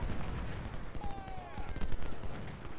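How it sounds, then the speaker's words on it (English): Distant musket gunfire crackles in irregular bursts during a Civil War battle at Gettysburg in a strategy video game, with scattered shots and rumbling booms at moderate volume. "I don't know where these gunshots are coming from, because it's certainly not us."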